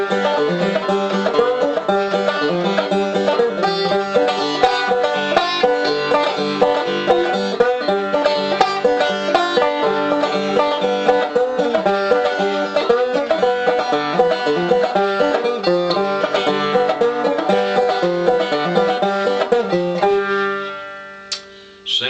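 Old-time banjo picks out the tune Cluck Old Hen in a steady, bright, continuous rhythm at a quick beginner's pace, played solo up close, with the notes ringing out and fading at the end.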